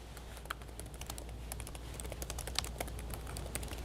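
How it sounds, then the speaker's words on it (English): Quick, irregular key clicks from someone typing on a computer keyboard during a tornado warning for Dallas and Guthrie counties, a close, steady stream of taps over a low background hum, with no talk. "I'm actually typing an update to the National Weather Service now"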